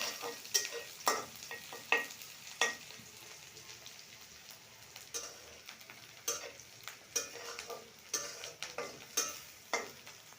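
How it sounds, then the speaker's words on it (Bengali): Chillies, onion and garlic fry in hot oil until browning, with a steady sizzle and a spatula scraping the pan in a brisk, regular rhythm of sharp strokes, close and fairly loud throughout. "এবার একটু ভেজে নিই এগুলো যতক্ষণ না ব্রাউন কালার আসছে"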